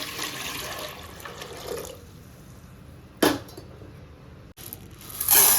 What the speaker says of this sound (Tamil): தண்ணி 1 லிட்டர் தண்ணி ஊற்றிக்கலாங்க